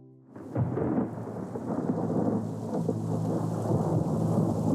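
Thunder rumbling over steady heavy rain at night, a deep rolling boom that starts suddenly and sustains under a continuous hiss of rainfall, no voices.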